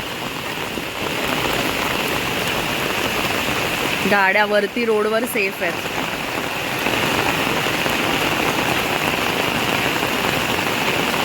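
Heavy monsoon rain pours steadily in a residential society area, a dense loud hiss throughout, with someone speaking briefly over it near the middle.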